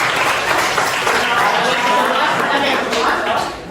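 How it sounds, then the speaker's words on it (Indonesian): A classroom of students applauds during a guidance lesson, dense clapping mixed with chatter and voices, tapering off at the end. "tepuk tangan buat saya"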